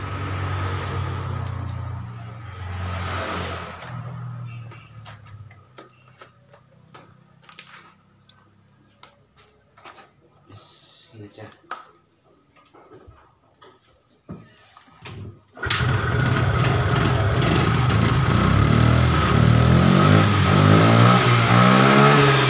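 Fuel-injected motorcycle with a non-FI-type coil being kick-started: quiet ticking and clattering kicks first, then the engine catches and runs loud and close, revving steadily.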